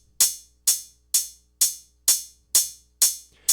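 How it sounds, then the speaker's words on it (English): Looping closed hi-hat in a techno track with a delay plugin at about 30% dry/wet, seven bright evenly spaced hits with smeared, lingering tails that blur into each other. "it morphs into closed hat main 2,"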